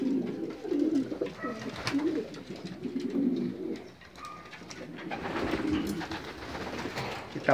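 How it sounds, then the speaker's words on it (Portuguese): Breeding male pigeons in a loft coo in repeated low rolling phrases, close and fairly loud, with soft rustling between calls and no clear talking. "Aqui estão os pombos aqui, o Estiquimbu, Joaquim Padeiro."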